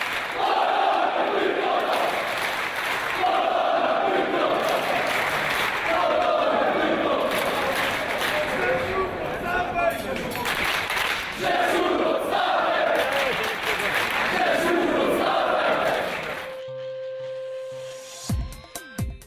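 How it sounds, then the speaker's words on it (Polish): A crowd at the Polonia Bytom football team presentation before the 2010/2011 spring round cheers and shouts loudly and continuously, with clapping and thuds, fading out near the end. "Wielkie brawa dla nich."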